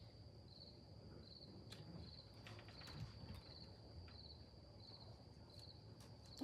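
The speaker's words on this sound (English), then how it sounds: "The crickets sing" Crickets chirp as a stage sound effect during a theatre play, a regular, pulsing high trill repeating steadily over a faint low background hum.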